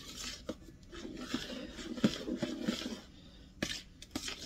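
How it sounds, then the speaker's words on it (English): A spoon clinks and scrapes around a bowl while icebox cake filling is stirred with added milk, making quiet, irregular taps and rubbing sounds close by. "Give it a good stir."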